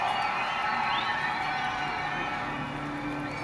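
A conference crowd at a CES press event claps and cheers in a broad, continuous wash of sound that holds steady for a few seconds, with scattered voices rising within it.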